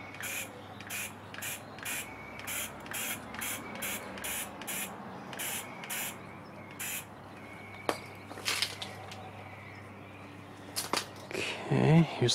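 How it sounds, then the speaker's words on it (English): Rapid short bursts of spray sealant hiss in a steady rhythm over stamped artwork, followed by scattered clicks and handling noises near the end. "Let's see how the Wink of Stella works with the spray sealing."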